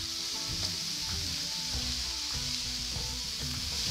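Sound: shallots and celery cooking in a pan

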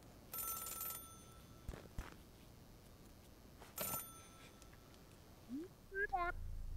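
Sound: payphone ringing in the video game Celeste

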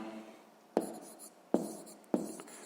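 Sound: writing with a pen

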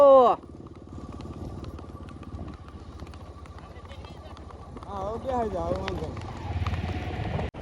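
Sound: mare trotting, hooves clip-clopping on road

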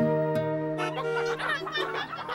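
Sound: chickens clucking on the road, from a truck

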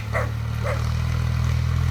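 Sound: dog barking

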